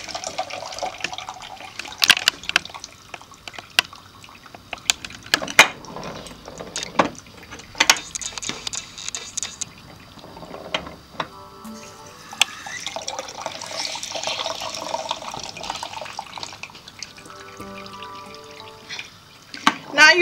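Juice trickles and drips from a mechanical juicer juicing oranges, intermittent splashing and running liquid with sharp clicks and clatter, fairly close, with a voice speaking in places.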